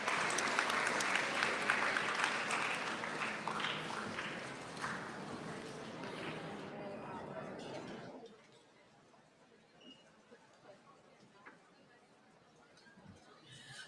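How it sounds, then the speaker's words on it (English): An audience at a science event gives a loud round of applause, dense clapping that fades over several seconds into quieter crowd chatter and movement. "Round of applause."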